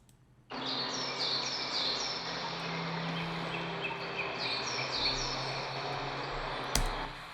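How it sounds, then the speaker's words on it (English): Foley birdsong layered with vinyl crackle in an Ableton Live production, repeated bright chirps and tweets over a steady wash of crackling hiss, entering abruptly and sustained at an even level with a sharp click near the end. "So you can hear some birds, some vinyl crackles."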